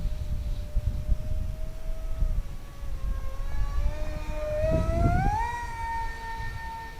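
An Eachine SonicModell Micro Skyhunter 787mm FPV model plane flying aerobatics, its electric motor a thin steady whine that rises and sweeps upward in pitch as the plane powers through manoeuvres, heard close over wind rush with no talk.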